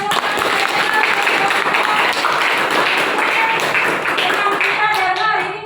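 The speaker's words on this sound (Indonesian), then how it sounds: "kasih tepuk tangan" A classroom audience at a poetry writing session applauds with lively, dense clapping that stays loud and continuous. Voices murmur through it, and it thins slightly near the end.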